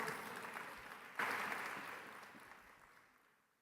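A church congregation claps together in a burst of applause that rises sharply, then gradually fades away.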